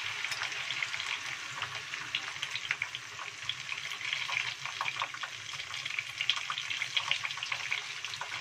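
Stuffed tofu frying in hot oil, a continuous close crackling sizzle with dense popping bubbles that holds steady throughout, with no talk.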